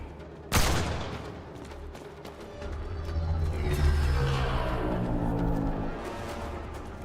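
Sniper gunfire in the video game Mass Effect Andromeda: one sharp, loud shot near the start, then a rumbling spread of combat noise and distant fire building and fading over several seconds.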